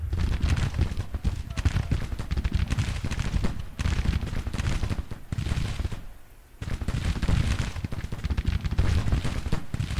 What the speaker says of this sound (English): That looks like artillery, yeah.